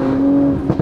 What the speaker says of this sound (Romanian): auzi motor, auzi motor.